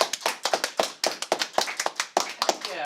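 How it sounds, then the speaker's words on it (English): A small group clapping in a brisk, uneven rhythm, the individual claps distinct and close, lasting a few seconds. "Another round of applause, please."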